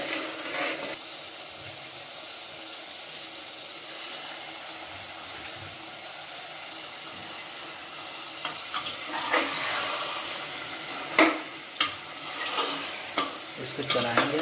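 Mutton frying in a pot with softened onions, a continuous sizzle that grows louder and busier toward the end, with repeated scrapes and knocks of a spoon stirring.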